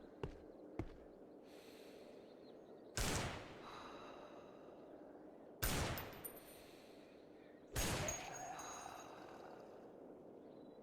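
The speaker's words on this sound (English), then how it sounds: "this zombie has a ton of health and armor. I'm gonna just shoot it" Three loud, spaced gunshots are fired at a heavily armored zombie in Cataclysm: Bright Nights. Each blast has a short tail, and there are quieter clicks and a low hum between them.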